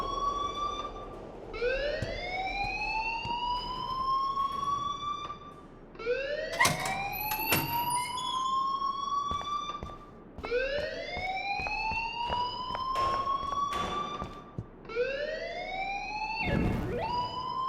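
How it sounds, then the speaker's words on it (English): An alarm blares in the Life Is Strange video game, a loud rising siren wail repeating in four long sweeps of about four seconds each, alone with no talk. "please turn off that alarm since that's your job"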